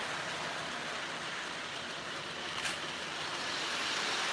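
An O gauge model train, locomotive 4116, runs along its track with a steady, faint whirring rumble and hiss that stays even throughout, with no voices.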